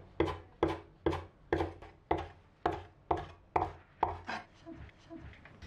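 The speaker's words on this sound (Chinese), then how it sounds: "准备几根小葱，全部切成小葱花" A kitchen knife chops scallions on a cutting board in a steady run of about ten sharp, close, evenly spaced strokes, heard alone, with the last few chops coming softer and quicker.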